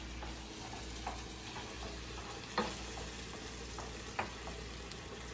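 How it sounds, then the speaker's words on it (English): Cajun chicken pasta in a hot pan, heavy whipping cream being stirred into the sauce with a steady low sizzle and a few soft spoon scrapes and taps against the pan, close and fairly quiet, no talking. "Give that a quick stir."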